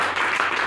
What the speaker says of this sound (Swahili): pige makofi